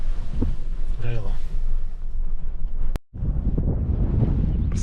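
Strong wind buffets a microphone in the mountains of Bulgaria, producing heavy low rumbling gusts with a brief cutout partway through, while someone speaks over the noise.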